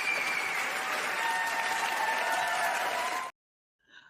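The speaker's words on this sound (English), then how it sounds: "I had to give you the standing ovation for that." Loud, dense audience applause with cheering fills the room for about three seconds, then cuts off abruptly; a brief faint murmur follows.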